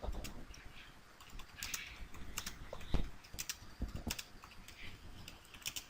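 Faint keystrokes on a computer keyboard come in irregular light taps and short runs, with a few sharper clicks, in a quiet room.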